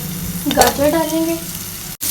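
Carrots tossed into a hot pan of frying vegetables with garlic, a steady sizzle with a brief rustle and clatter as they go in, close and moderately loud, ending in a short cut.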